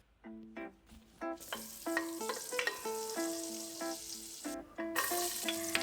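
Butter and vegetables sizzle in hot vegetable oil in a kadhai, a close, steady frying hiss with crackling bursts, while a melodic tone pattern plays over it and no one speaks.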